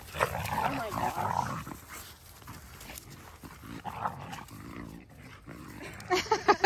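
Dogs, including a big brown dog, growl and snarl while playing rough, loud, rapid guttural bursts with yips near the end, close by and mostly without talk.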